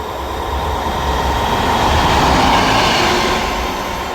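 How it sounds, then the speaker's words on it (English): Passenger train rumbling steadily past a station platform, a sustained loud roll with wheel and rail noise that swells slightly mid-pass and eases toward the end, no voices over it. "I thought that was going to be my train."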